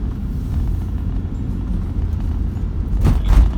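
A Toyota Prius 1.8 Hybrid accelerating hard at full throttle, a steady low rumble of road and drivetrain noise filling the cabin, swelling louder toward the end.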